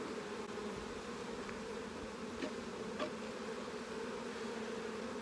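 Bees hum steadily at an open hive during an inspection, a dense continuous buzz close by with no voices, a few individual insects flicking past the microphone.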